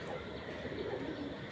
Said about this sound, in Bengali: এটা হলো মাদি কবুতর।